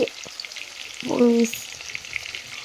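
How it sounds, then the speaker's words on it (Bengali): Chopped tomatoes are stirred into hot oil in a pan for a kakrol curry, giving a steady soft frying hiss with a brief louder burst of stirring and sizzling midway; no one speaks. "বিলাতি কুচিগুলো দিয়ে নিয়ে একটু ভালো করে নেড়ে নিলাম"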